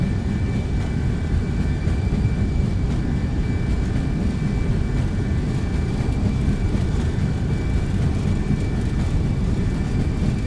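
Simulated MD-11F freighter jet engines spool at takeoff thrust in X-Plane 12, a steady, loud broadband roar with a faint high whine, continuous for the whole stretch with no talking.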